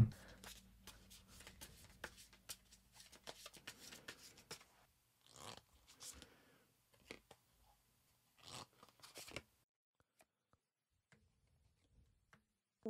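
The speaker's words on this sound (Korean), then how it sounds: "한번 카드 뽑아볼게요" Tarot cards shuffled and drawn during a reading, a run of soft papery riffles and flicks that come in bursts over the first half, then a few sharper card snaps and slides before the sound fades to near silence.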